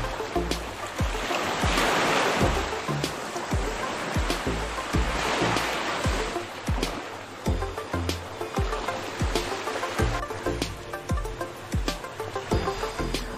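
Ocean waves washing onto a beach, a continuous rushing surf with repeated swells, fairly faint and steady with no talking.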